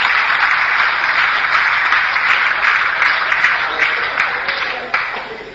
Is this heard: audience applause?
yes